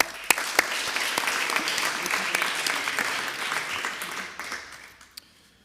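A municipal council assembly bursts into sustained applause to elect Madame Keller by acclamation, a steady wash of clapping from the room with a few sharp nearby claps, fading out toward the end.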